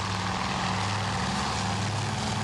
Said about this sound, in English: Our Wildcats are descending.